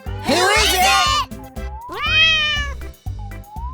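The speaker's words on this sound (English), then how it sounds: "Kids, do you know which animal goes meow?" Three drawn-out, rising and falling cat meows from a kitty cat play in a children's farm-animal story, loud and close over a steady rhythmic musical beat.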